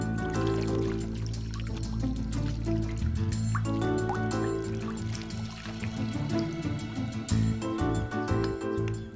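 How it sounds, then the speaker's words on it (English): Water drips and trickles in an ancient Greek water clock, with bright, clustered droplet ticks over a full, sustained liquid wash and low tonal hum running continuously throughout. "The Greeks designed a water clock, even if only to regulate the speaking time of politicians."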